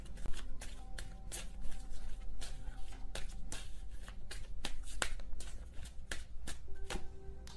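Tarot cards shuffled by hand in a quiet room, a rapid run of crisp riffling snaps and flutters repeating in irregular bursts, close and moderately loud with no talking.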